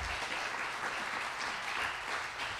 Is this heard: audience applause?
yes